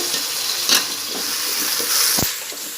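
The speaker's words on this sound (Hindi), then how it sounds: "प्याज में और टमाटर में भूनूँगी" Large tiger prawns fry in onion and tomato for prawn biryani, giving a loud, close, continuous sizzle with a few stirring scrapes and clinks.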